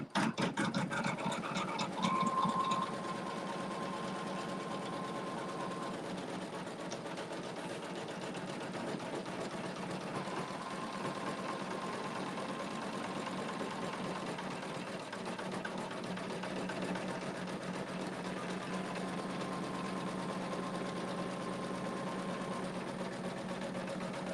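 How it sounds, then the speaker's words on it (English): A sewing machine runs continuously, stitching a zigzag to attach wool for a quilt block, its steady motor hum and needle chatter droning at an even level with faint tonal whines. "the machine will sew a zigzag to keep that attached to the battleizer"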